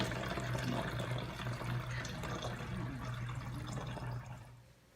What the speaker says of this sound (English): And then he's going to pour another cup in.